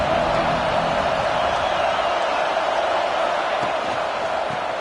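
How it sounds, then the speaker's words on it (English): A football stadium crowd at Tennessee vs Washington sends up a loud, sustained roar with scattered whoops and cheers, a dense wash of many voices with no single one standing out. "This crowd bringing the energy and noise early."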